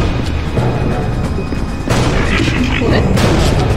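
Gunfire in the Aliens vs Predator video game, dense loud bursts of shots and booms running continuously, with a heavier wave of fire in the second half.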